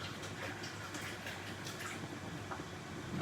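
Steady running water from a kitchen tap as hands are rinsed, a continuous close splashing hiss that holds evenly throughout with no talk.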